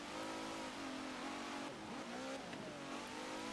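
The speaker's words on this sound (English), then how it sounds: "British car on the British track in the rain." A British car races on a rain-soaked track in Forza Motorsport 7, its engine droning steadily with shifting revs and wet tyre hiss throughout, loud and continuous without speech.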